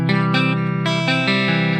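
A guitar chord played with poor intonation, sounding as a few sustained strummed chords with a slightly sour, buzzy, effected tone, repeated in short bursts with no talking.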